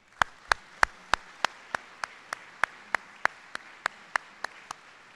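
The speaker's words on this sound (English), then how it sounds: "Let's hear a warm TCC round of applause for all those who've been recognized here this morning" Claps ring out at a college convocation for award recipients, a regular series of crisp, separate hand claps over a quiet hall, moderately faint and evenly paced.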